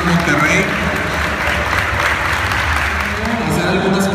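Loud, sustained applause from a crowd at a sports gathering honoring officials of the U.S. Consulate General in Monterrey, a thick, even roar of clapping lasting the full four seconds with crowd noise mixed in.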